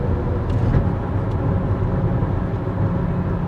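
Car driving across the Chesapeake Bay Bridge in Maryland, a steady low road and engine rumble filling the cabin, constant and close with no talking.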